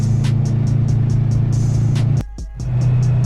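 A new car's engine drones steadily and loudly from inside the cabin while driving, with a brief dip and stutter before the hum returns.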